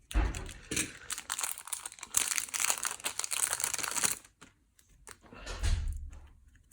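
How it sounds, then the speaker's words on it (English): A sealed box of Magic: The Gathering Chronicles trading cards is cut open. Close, crisp crinkling and tearing of wrapping runs steadily for about four seconds, pauses, then returns in a shorter burst. "Let's open the box. Let's cut through."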